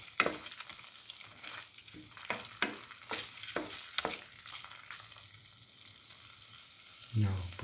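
Potato and bread stir fry is tossed and mixed in a sizzling frying pan, a spatula scraping and clattering in irregular strokes over a soft, steady sizzle, close and fairly quiet.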